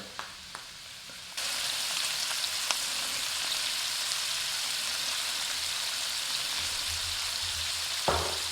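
Shrimp start frying in a hot pan with a sudden burst of loud, hissing sizzle that holds steady and close, after a few light clicks and taps, with another soft clunk near the end.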